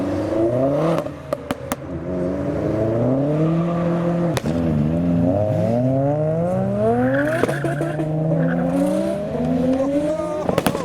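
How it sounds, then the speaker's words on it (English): A modified Vauxhall Astra VXR engine revs up and accelerates away from a car show, pitch climbing through the gears, loud and close over a steady background roar. "We have behind the lorry an Astra VXR next up to leave."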